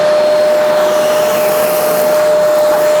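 V-Tuf Mini X2 M class dust extractor running with a sweeping head on, pushing shavings and sucking up workshop dust; a loud, close, constant airy whine with a steady tone.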